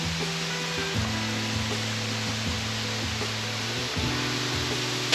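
A waterfall's rushing water pours as a steady, dense wash of noise, with a faint low melodic tone running underneath throughout.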